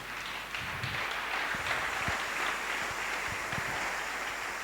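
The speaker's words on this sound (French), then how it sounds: "C'est sous vos acclamations, s'il vous plaît." Steady applause from a church congregation fills a worship hall, a dense, continuous wash of clapping with a few louder claps standing out, no voices on top.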